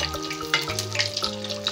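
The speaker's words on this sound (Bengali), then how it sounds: "ভেটকি মাছের ফ্রাই মনে হচ্ছে" Bhetki fish fries in very hot oil in a home kitchen, crackling and sizzling loudly up close with sharp popping bursts and a steady bubbling hiss throughout.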